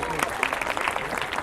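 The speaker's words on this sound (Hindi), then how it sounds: "आइए जोरदार तालियों से इनका स्वागत और उत्साहवर्धन करें।" Applause welcoming performers at a Republic Day celebration at an embassy: a dense burst of many hands clapping, loud and close, with crowd noise mixed in.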